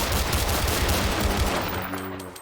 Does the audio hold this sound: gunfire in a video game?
yes